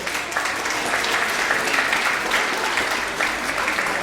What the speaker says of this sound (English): give Geetma a round of applause